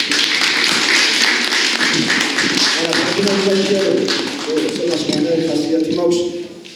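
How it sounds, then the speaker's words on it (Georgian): Audience applause for poet Makvala Gakharia at a meeting in the Writers' House: a dense patter of clapping fills the room, then thins as a voice speaks over the fading claps. "აი მართლა მაგარი აპლოდისმენტები"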